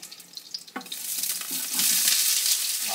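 Onion stirred in a pan of hot coconut oil, a few scraping stirs at first, then a close, steady sizzle of frying that grows louder and continues to the end.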